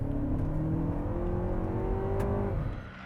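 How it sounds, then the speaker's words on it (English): A 2024 Lexus TX 500h F Sport Performance hybrid SUV launching at full throttle, a steady rising engine and electric whine climbing in pitch for over two seconds, close and loud, then easing off at the end. "I'm just gonna floor it."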